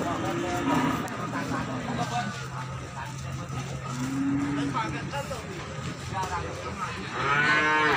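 Peranakan Ongole cattle moo repeatedly at a busy cattle market in Imogiri, Bantul, with several drawn-out lows near and farther off, a loud call at the end, and people talking amid background market noise.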